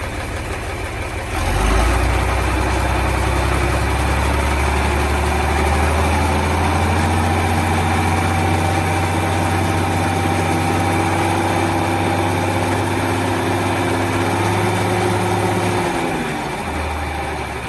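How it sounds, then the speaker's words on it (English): A 1971 John Deere 4020 tractor engine starts and settles into a steady, loud, low idle that runs evenly for a long stretch before cutting out near the end. "As soon as you hit the key,"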